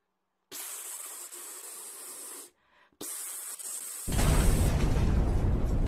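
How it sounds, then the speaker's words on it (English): A hissing aerosol can of cat repellent spray fires in two steady bursts with a short gap between them, followed by a louder, rougher blast of spray noise at the end, with no talking. "All this time I had in my utility belt a cat repellent spray."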